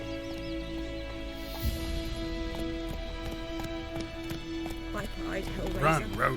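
Roach the horse gallops in The Witcher 3, with steady hoofbeats clip-clopping beneath a music score, and a voice speaks briefly over it.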